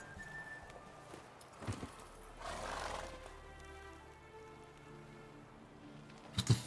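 Roach, a horse in The Witcher 3: Wild Hunt, gives a short neigh and moves with faint hoof sounds over quiet game ambience, with a low snort-like burst near the end.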